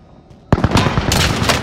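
Heavy large-caliber gunfire in a first-person shooter game: a sudden loud burst of close, rapid shots that keeps pounding with sharp cracks after a brief quiet moment.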